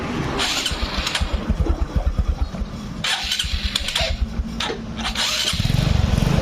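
A Suzuki Supra X125 motorcycle with a noisy clutch area cranks repeatedly in rapid bursts, sputters between attempts, then catches into a rough running rhythm at the end, loud and close.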